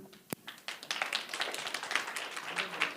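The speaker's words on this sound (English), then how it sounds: "You keep clapping." Audience clapping at a livestreamed talk, opening with one sharp clap and then building into scattered, uneven applause that stays moderate and somewhat distant.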